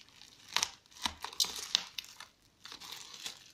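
A knife slicing through the packaging of an Eachine E011 micro drone, giving quiet crinkling and tearing scrapes in a handful of short close strokes.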